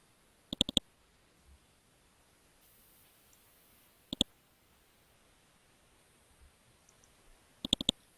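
A computer mouse clicks in three short groups, sharp close double and triple taps separated by a few seconds of quiet room hiss.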